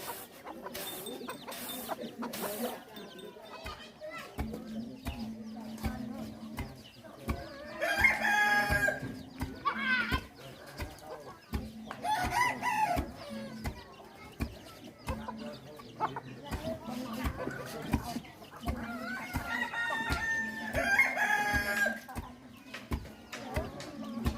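Chickens cluck repeatedly and roosters crow several times in a Bru ethnic village at Ban Sadueng, Xepon district, Savannakhet, amid sharp rhythmic tapping and other rural noise, with some talk in the background.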